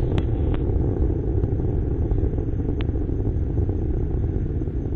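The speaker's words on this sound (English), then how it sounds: "Solid motors beginning to taper off." Solid rocket motors burning during the Phoenix probe launch, tapering off past max Q, as a steady, loud, dense broadband roar and rumble with a few faint crackles.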